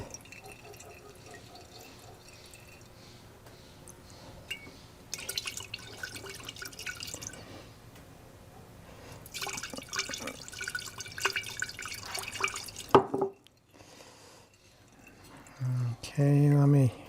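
Liquid seedlac is poured through a filter cloth, with soft drips and trickles running under steady background noise, a few louder splashes and bursts of pouring in the middle, and a short loud gush near the end.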